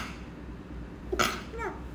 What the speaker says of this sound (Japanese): くしゃみ出る。